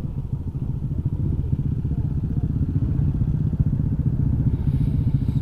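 A Suzuki Shogun SP 125 motorcycle rides an extreme trail, its engine throbbing steadily and loudly up close, with clattering and thumping from the rough ground throughout.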